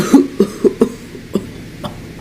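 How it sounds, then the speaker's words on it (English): A series of weak, breathy coughs from a steam engine character in a Trainz train game, about six in a row, spaced unevenly and fading toward the end. "Henry coughed feebly."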